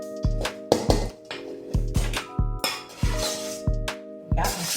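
Shrimp going into a pan and being stirred, with a run of sharp utensil clinks and pan knocks in an uneven rhythm over a steady faint hum, close and fairly loud, no voice.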